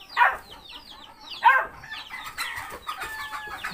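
Chickens cluck and squawk nearby on a farm where piglets are kept, with two louder calls standing out over a busy run of softer clucks.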